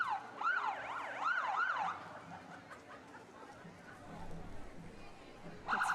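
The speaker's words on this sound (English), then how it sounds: "I really think they enjoy going down the route, blowing their horns and sirens." Pittsfield Police lead vehicle at a Fourth of July parade sounds its siren in a few loud rising-falling wails, then breaks off into crowd and street noise, with a short blare returning at the end.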